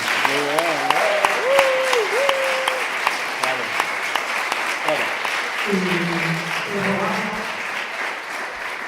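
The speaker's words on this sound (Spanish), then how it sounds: "yo le pido un aplauso público" Steady clapping from an audience at an education talk fills the whole stretch, while someone speaks briefly over it near the start and again later.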